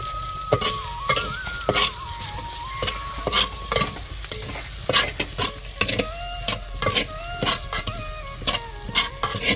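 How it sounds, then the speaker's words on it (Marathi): Onion frying in oil in a pan while a spoon stirs it, a steady sizzle under repeated loud scraping and clinking strokes against the pan, close and busy. "कांदा लाल जरच झाला आता तेल टाकायचं त्याच्यामध्ये आणि आणखीन परतू परतू घ्यायचा"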